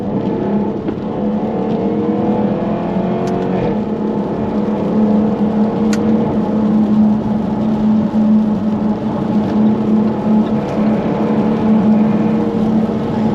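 A Jaguar F-Type R AWD P550 drives in manual mode in second gear, with a steady loud engine drone and rising and falling revs heard from inside the cabin. It runs continuously and alone.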